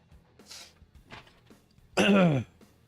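A person coughs and clears their throat in a few soft rasping bursts, followed by one loud, harsh hack, all close to the microphone.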